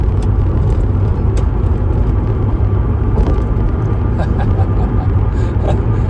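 1986 Renault Alpine GT Atmo engine droning while driving, a loud continuous low rumble with road and cabin noise, steady throughout without a break.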